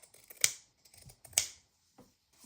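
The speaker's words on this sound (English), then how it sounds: "So I'm going to just cut a scrap." Scissors snip through a scrap of leftover denim jeans fabric, two crisp, sharp cuts close by with quiet rustling of the cloth in between.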